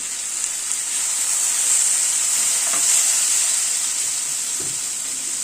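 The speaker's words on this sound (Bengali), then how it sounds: "3-4 মিনিট সময় ধরে সয়াবিনটা মশলার সাথে কষিয়ে নিলাম, গ্যাসের ফ্লেমটাকে মিডিয়ামে রেখে।" Soybean chunks sizzle steadily with spices in a pan over a medium gas flame, a dense continuous frying hiss with faint stirring scrapes, close and loud, with no talking.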